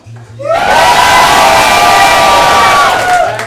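An audience at a student showcase screams and cheers at full volume for several seconds, a dense, sustained roar of whoops and shouts that swells and then tapers off.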